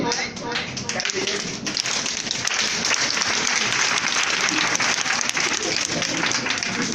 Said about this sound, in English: it's called manner clapping, इसे कहते हैं कि तहजीब याफ्ता क्लैपिंग